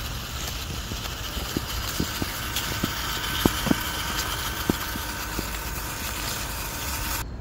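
UDIRC 24th scale RC crawler running slowly in first gear, a steady thin motor whine with faint gear hum and scattered small clicks from the drivetrain, continuous and fairly close.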